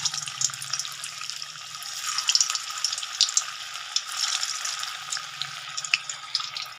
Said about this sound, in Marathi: याला फ्राय करते।